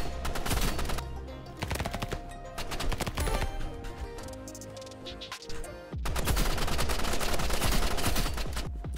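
An Uzi fires in Roblox Rivals, with dense, rapid automatic bursts cracking loud and close, easing briefly near the middle before a renewed sustained stream of fire, and nobody talking over it.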